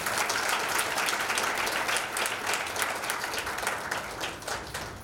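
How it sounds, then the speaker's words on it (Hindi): A church congregation clapping during a sermon, loud continuous applause from many hands sustained throughout and tapering slightly toward the end. "ताली बजा के परमेश्वर की महिमा करें।"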